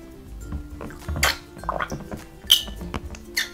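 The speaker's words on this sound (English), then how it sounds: "Alright, let's see these toys squirt." Bubble Guppies bath squirter toys squeezed in bathwater give off a few short wet squirts and splashes among soft drips and gurgles, close by and fairly faint.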